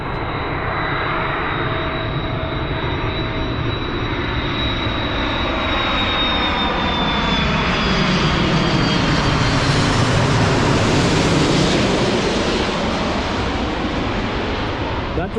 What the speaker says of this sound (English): That one is also Finnair aircraft at this time of the day.